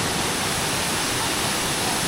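Tumalog Waterfall in Oslob, Philippines, roars in a dense, steady rush of falling water that fills the whole clip without any voices.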